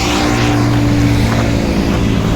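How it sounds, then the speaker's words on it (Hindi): A KTM RC 125 motorcycle fitted with an aftermarket exhaust drones loudly and steadily up close, a continuous dense engine roar with a sustained low hum and no pauses. "ये बाइक हनी की है KTM RC 125 विद एग्जॉस्ट। बहुत ज़्यादा नॉइसी है"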